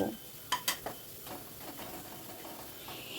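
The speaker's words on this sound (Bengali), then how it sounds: "আবারও মশলাটা ভালো করে একটু নাড়াচাড়া করে নিচ্ছি" Masala fries in oil for dal tadka while a spoon stirs and scrapes the pan, giving a few sharp clanks at first and then a soft, continuous sizzle up close with no talking.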